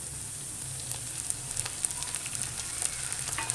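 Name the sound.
garlic frying in a pan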